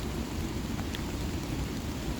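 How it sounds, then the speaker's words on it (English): Steady rain falling outdoors by the flooded Potomac River, a continuous broadband hiss with a low rumbling undertone that may be distant thunder, moderately quiet and even throughout, with no voices. "I heard a little thunder a second ago."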